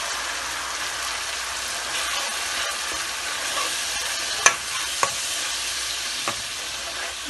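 Dry spices and ground onion fry for an egg and potato curry, giving a loud, even sizzle that runs throughout, with a few sharp clicks of a spoon against the pan and no voices.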